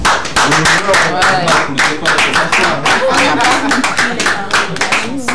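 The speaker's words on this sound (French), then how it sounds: "Mais ça doit s'applaudir au moins." A small audience claps in a distinct rhythmic pattern, sharp individual hand claps repeating close by while voices chant or speak over them.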